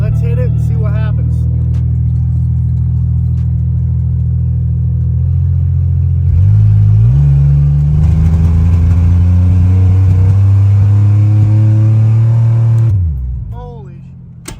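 Truck engine running on nitrous, an OBS pickup, idling loud and deep, then roaring into hard acceleration with rising revs and a sustained high-load drone before cutting off abruptly near the end.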